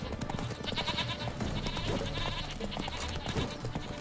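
Goats bleating in The Witcher 3: Wild Hunt, a dense run of overlapping nasal cries over steady game ambience and music, loud and continuous throughout.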